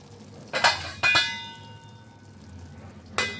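A lid going onto a pan of niramish doi potol, a Bengali curd and pointed gourd dish, after the gas is switched off: a few sharp metallic clangs with ringing tails, close, over faint kitchen hiss.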